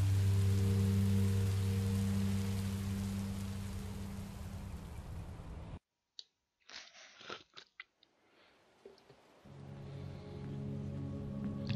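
Steady broadband rain hiss in the video game Minecraft: Story Mode, loud and continuous for about six seconds, then cutting out to near silence with scattered soft clicks before the rain wash returns near the end.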